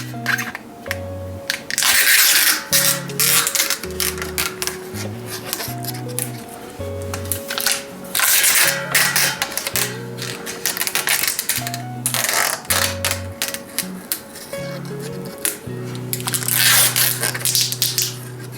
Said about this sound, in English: I'm going to use some 21 millimeter tubeless tape here. We'll start at the valve hole.